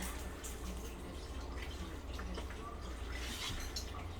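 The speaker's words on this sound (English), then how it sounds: "I'm going to give it a little rinse because it's been in the cupboard." Water running from a tap over a container being rinsed indoors, a steady broadband splashing and trickling that fills the whole moment at a moderate, even level.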